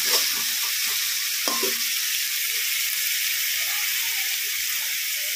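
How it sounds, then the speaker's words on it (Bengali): Masala frying in oil in a pan for egg do pyaza, stirred continuously: a loud, steady hissing sizzle fills the whole stretch, with brief soft scraping of the spoon early on and no talking. "এবার পুরো মশলাটাকে আমি ভালো করে কষিয়ে নেব।"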